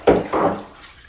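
Warm tap water runs into a tub or sink while a Doberman puppy is bathed, a close splashing gush in two short bursts that then thins to a faint trickle.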